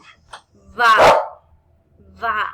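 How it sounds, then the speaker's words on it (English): A dog gives one loud, close bark in the middle of a short indoor stretch where a person speaks briefly before and after. "Sorry for my dog."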